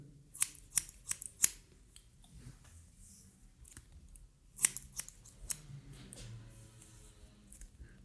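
Scissors snipping hair during a taper fade haircut, a cluster of quick close metallic cuts at the start, then a few more sharp snips after a quiet pause, with soft rustling between them.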